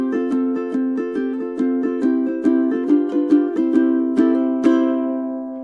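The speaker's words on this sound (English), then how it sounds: "we'll start with this one, which is a felt plectrum" A ukulele is strummed with a flexible felt plectrum in a steady, soft rhythm of chords, close and clear with ringing notes and no talking.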